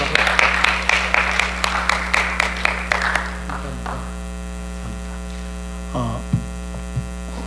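Brief applause from a church audience welcoming a missionary to the front, a few seconds of scattered clapping over a steady electrical hum, then fading to hum with a couple of faint thumps.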